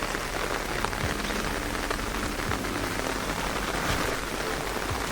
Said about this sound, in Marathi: पावसानं जोर केल्यानं पाऊस वाढलो